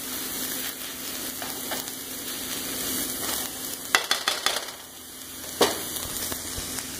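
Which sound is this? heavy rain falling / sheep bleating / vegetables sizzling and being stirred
vegetables sizzling and being stirred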